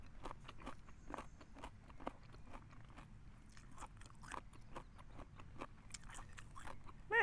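Someone chews crisp papaya salad with radish, giving repeated sharp crunchy bites in a loose rhythm, close and fairly quiet with no talk.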